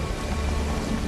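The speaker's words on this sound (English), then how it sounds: "Just starting to rain rather heavily." Heavy rain pours down in a jungle, a dense, steady hiss of drops with no pauses and no voices.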